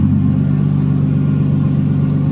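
A 1991 Nissan Skyline GTS25 with an RB25 engine, naturally aspirated converted to turbo, runs with a steady, loud low rumble that holds close and unbroken throughout, with no talk.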